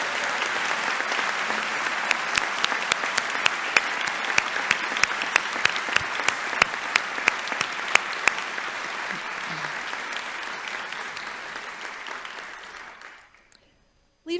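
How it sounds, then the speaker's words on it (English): A sustained round of applause from the audience at a university Founders' Day ceremony, steady dense clapping with a few sharper claps standing out, fading away near the end before a brief sound returns. "please join me in a well-deserved round of applause for these exceptional students"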